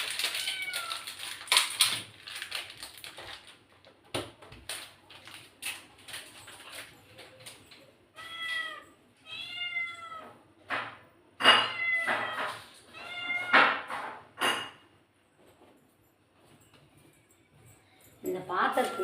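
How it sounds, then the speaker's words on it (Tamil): A cat wanting fish meows repeatedly in a home kitchen. The meows are clear, drawn-out cries in uneven bursts, mixed with clattering dishes and a person talking. "இந்த பூனை இந்த இதுக்காக கத்துது."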